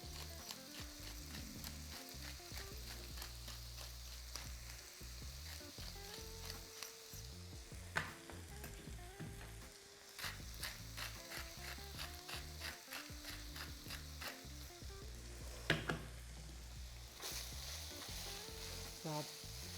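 Seasoned minced meat fries in a pan of bubbling oil with a steady, close sizzle that runs throughout, broken by occasional clicks and scraping as it is stirred.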